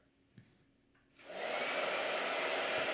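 A blow dryer switches on partway through and runs steadily and loudly as a broad, constant whoosh, after a few faint knocks in near silence.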